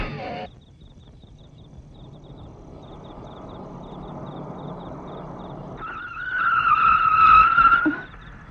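A car from a 1984 Hindi film scene rolls in with a low engine rumble, then its tires squeal loudly in a sustained skid to a stop, cutting off abruptly near the end.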